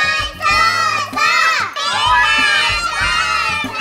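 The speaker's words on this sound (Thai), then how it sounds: "เชียร์พี่บอลหน่อย" A group of children shouting and cheering loudly together in bursts during a kids' science show about singing balloons, with a brief dip midway before the voices surge again.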